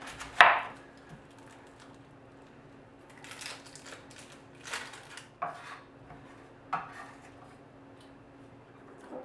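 Two onions being chopped, heard as sparse knife thuds on a board: a sharp first knock, then a few softer, irregular cuts and clinks spaced seconds apart in a quiet room.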